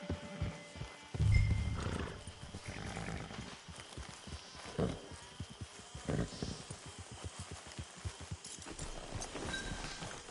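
Horse in the video game Red Dead Redemption Online near a camp, with quiet hoof clops, snorts and a louder burst of breathing under a soft game ambience, no talk.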